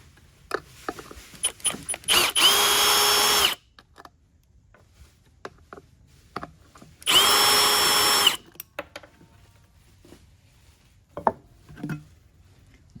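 A power drill backs Phillips screws out of an Echo PB-411 leaf blower fuel tank in two loud whirring bursts of about a second each, separated by small clicks and handling noises.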